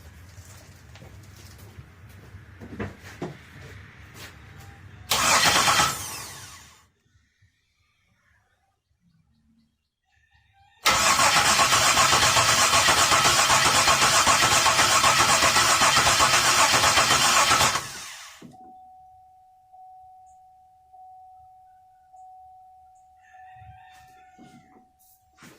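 A flooded engine on a Chevy Monte Carlo cranks and tries to start in two loud bursts, the second long and sustained, separated by silence. Afterward a steady tone and faint rhythmic sounds follow.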